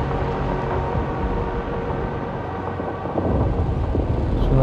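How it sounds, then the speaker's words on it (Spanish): A thunderstorm rumbles in the video game Little Nightmares 2, with a dense, continuous wash of rain and low thunder that holds steady and then swells louder toward the end. "Es una tormenta."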